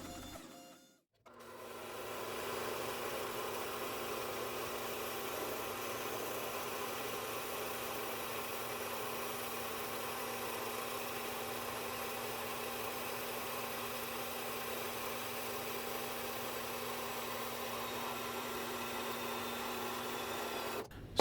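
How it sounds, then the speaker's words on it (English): A bandsaw cuts excess off a Damascus steel billet for a mosaic Damascus chef knife, giving a steady, whining, humming drone that begins after a short pause and keeps a constant level, with no talking. "I'm just gonna cut it off on the bandsaw and save it for this build"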